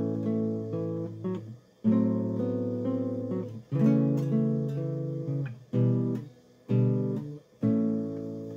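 Guitar playing line 2 of a song, a series of strummed chord phrases with brief gaps between changes, close and clear with no talking.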